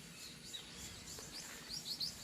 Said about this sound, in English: I hear them, but they're not on the water.